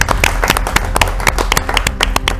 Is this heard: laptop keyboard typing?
no